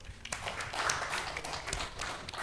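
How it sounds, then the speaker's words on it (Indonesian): An audience claps steadily through a village awards talk show on tobacco excise regulations. The dense, even applause sounds like a roomful of hands, heard fairly near and without pauses. "Boleh tepuk tangan dulu?"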